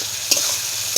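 Ridge gourd fries in a pan while being stirred, a constant close sizzle broken by two short scraping stirs within a single second.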